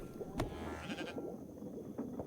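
Sheep bleating in the colony-building game Before We Leave, a couple of short bleats close up over a steady game backdrop.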